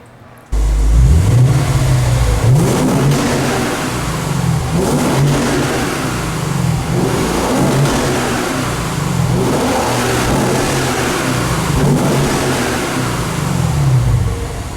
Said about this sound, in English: You've got that normally aspirated high-revving engine. That is going to sound better.